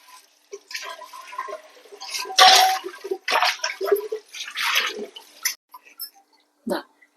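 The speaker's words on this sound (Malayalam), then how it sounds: "ഇനി നമുക്ക് നല്ലവണ്ണം കഴുകിയെടുക്കും" A stained, scorched pressure cooker is rinsed and scrubbed under water at close range, making irregular splashes, gushes and clinks in short bursts separated by quiet gaps.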